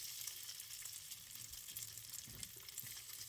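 Beef and broccoli frying in a pan, a steady quiet hiss and sizzle with faint stirring knocks, no voices.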